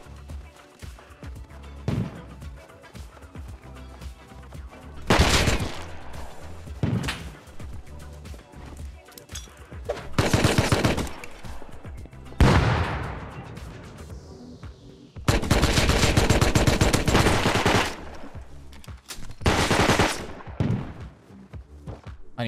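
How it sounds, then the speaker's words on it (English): AK rifle fire in a survival video game: several loud bursts of gunshots, some single cracks and some sustained rapid strings, separated by quieter stretches with footsteps and movement. "That was an AK."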